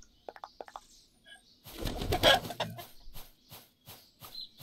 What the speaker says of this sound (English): the noise of the chickens is pretty annoying